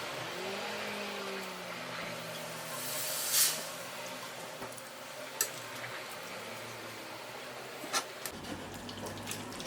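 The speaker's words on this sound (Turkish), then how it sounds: "Şöyle şerbetimizden yavaş yavaş üzerlerine gezdirelim." Sugar syrup is poured slowly over bread kadayıf dessert, giving a steady soft liquid hiss with a brief splashy burst near the middle and a few small clinks, with no talking.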